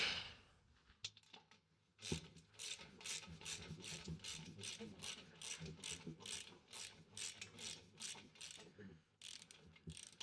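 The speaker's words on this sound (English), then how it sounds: "let's go bolt this in" A ratchet wrench clicks rapidly and steadily while bolting a part onto a DIY wheelchair lift for an SUV, the close metallic ratcheting running for about eight seconds after a couple of initial clanks.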